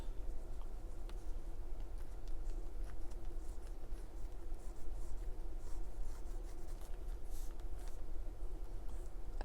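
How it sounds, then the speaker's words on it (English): A pen draws bicycle handlebars in a Hobonichi Techo journal, giving a steady, close scratching and rubbing of nib on paper that continues throughout with no talk. "I'm going to draw some handlebars, maybe."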